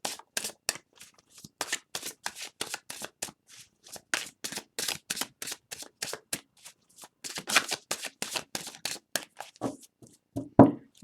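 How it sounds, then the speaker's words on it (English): Tarot cards being shuffled by hand, a steady run of crisp riffling and slapping bursts, close and clear, with brief pauses between rounds and a couple of softer knocks near the end. "Thank you for bearing with me while I go through my process of shuffling,"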